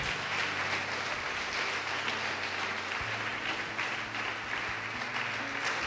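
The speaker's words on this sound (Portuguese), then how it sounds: "Pode aplaudir o Senhor e glorificar." Church congregation applauding during a sermon, a steady wash of many hands clapping at moderate volume with a low hum underneath.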